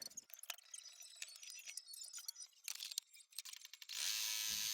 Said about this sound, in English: Now I'm stitching out the markers for the feet.